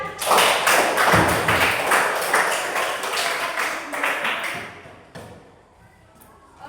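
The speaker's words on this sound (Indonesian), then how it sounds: "Kita berikan tepuk tangan." A class claps for a student group after its presentation, a loud, dense patter of many hands that gradually fades and thins out toward the end.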